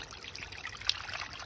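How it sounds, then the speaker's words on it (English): Water pours from a stream into a homemade waterfall basin, a continuous trickling, splashing flow heard close up and alone at moderate level. "You can see the water's coming in and filling up the basin where I've blocked it"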